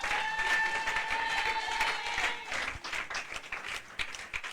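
A church congregation applauds steadily, a dense wash of many hands clapping at once, fairly loud and continuous, with a tonal voice or instrument line briefly sustained over the start.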